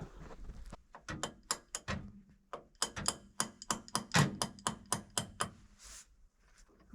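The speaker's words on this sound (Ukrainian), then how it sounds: "треба трошки постукати молоточком" A small hammer taps on a part inside a Gazel van, producing about twenty sharp, close knocks in uneven bursts, some quick in succession, with short pauses between groups and no speech.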